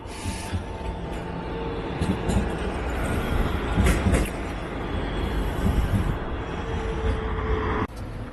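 A tram pulling through Lebanon Road tram stop in Croydon, London, a roadside stop on the pavement. It gives a steady close rumble of rail and wheel noise for the whole stretch, with no talking.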